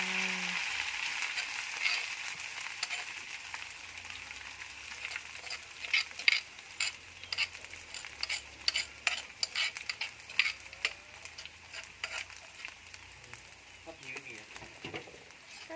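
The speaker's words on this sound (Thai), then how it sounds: "แล้วก็ผัดผัดผัดให้เข้ากันนะคะทุกคน ให้เครื่องมันหอมนะคะ" Seasonings for roasted field rat stir-fried in a hot pan: a steady broadband sizzle runs throughout, with repeated scraping clicks of a utensil against the pan that grow more frequent toward the end.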